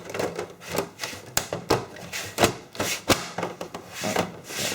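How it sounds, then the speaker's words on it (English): Plastic cover being slid and pushed back onto an original Xbox DVD drive, heard as close, uneven scraping, rubbing and clicking with sharp knocks as it resists fitting. "And just slide the cover back on, but it's having some issues."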